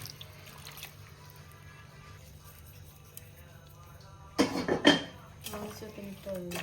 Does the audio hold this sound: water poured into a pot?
yes